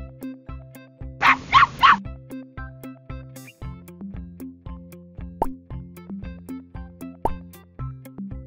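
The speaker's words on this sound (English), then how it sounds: "Puppy." Three quick, high puppy yips burst out near the start over bouncy, plucky music that keeps playing throughout.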